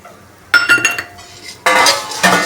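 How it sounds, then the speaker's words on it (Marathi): Whole garam masala spices roasting dry in a metal pan are stirred with a spoon, two bursts of rattling, scraping clinks against the pan, loud and close, with a quiet gap between. "आता हे सर्व व्यवस्थित परतून घ्यायचं"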